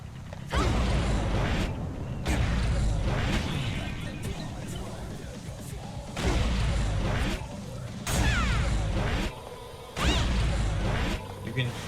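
Impact hits and crunchy whacks from Guilty Gear Strive training mode, a fighting video game, arriving in several loud bursts with short gaps between them and faint layered hit effects underneath.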